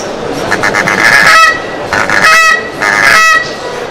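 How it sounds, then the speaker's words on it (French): Loud, harsh greylag goose honks from a handmade hunting call, in three bursts, each a rapid run of nasal calls with short pauses between. "On a des appos aussi pour les oies, l'oie cendrée."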